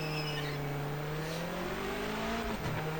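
Race car in the Project Motor Racing video game pulling out of the pits, a loud steady engine drone that holds a low pitch and then shifts near the end, with a faint tire squeal.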